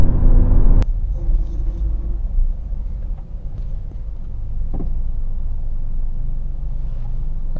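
A car's engine rumbles low and steady, a brief thump near the start, then a smooth continuous hum as cruise control slows it to a stop, with no voices.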